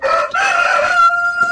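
A Brahma rooster crows once, close and loud, a bright harmonic cock-a-doodle-doo that rises and then holds a steady final note.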